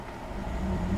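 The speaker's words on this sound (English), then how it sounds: "I'm going to rev the engine here." A white 2010 Cadillac Escalade ESV with a 6.2 liter V8 gives a short, low engine rumble that swells slightly toward the end, heard close and fairly quiet with no talk over it.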